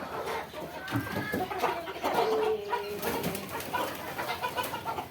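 Tiger breed chickens cluck and call in a poultry pen, a steady mix of overlapping bird sounds at moderate loudness with a faint voice in the background.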